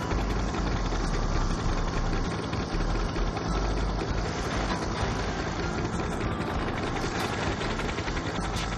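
Motorcycle engine in the video game Gangstar Vegas, a steady droning hum that runs unbroken and fairly loud throughout, with no talking over it.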